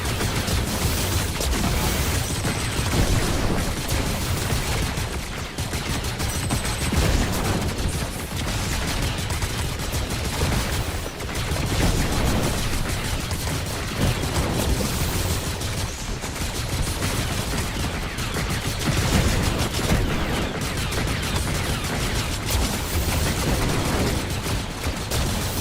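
Blaster and gunfire in a Star Wars shooter game, a continuous barrage of overlapping shots and bursts with occasional booms, loud and steady for the entire span with no talking.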